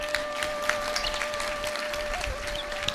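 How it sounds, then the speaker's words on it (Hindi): Applause from a seated audience at a religious discourse, steady clapping filling the space with a sustained crowd texture and a faint tonal hum beneath it. "अब ताली बजाओ।"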